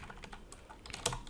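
Faint, quick keystrokes on a computer keyboard as a web address is typed into a browser, a short run of soft irregular clicks ending in one sharper tap.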